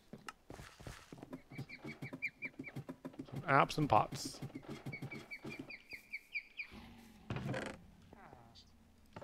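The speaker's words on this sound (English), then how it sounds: "I love all the bird noises added in the mod pack" Chirping and warbling birdsong from a heavily modded Minecraft game plays steadily in the background while a person talks over it.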